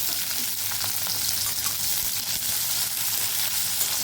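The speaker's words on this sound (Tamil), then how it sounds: "இது எல்லாத்தையும் ஒன்றா போட்டு கொஞ்சம் நல்லா வதக்கி எடுத்துக்கணும் நல்லா செவக்க வதக்கிக்கணும்" Green chillies, cashews and coriander sauté together in a pan for an egg gravy, giving a dense, constant sizzle and crackle up close with no speech.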